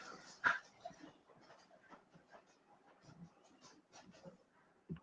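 Several pet dogs pant and whimper at a door, with a few sharp yips and scattered restless sounds that stay fairly faint throughout, and no voices among them.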